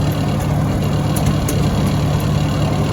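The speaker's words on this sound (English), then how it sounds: "That's a nice tight engine." A 1949 Farmall M tractor engine runs at a steady idle, a low, even rumble with a faint rhythmic pulse, close by and constant with no voices.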